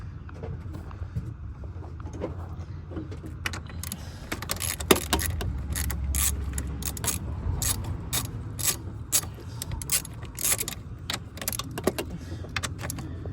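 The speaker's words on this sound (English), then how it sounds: "Take these little bolts out." A hand ratchet clicks in quick bursts while removing small bolts from the upper intake manifold of a 2002 Ford F150 Lariat with the 5.4L V8, close and clear with light metallic clinks.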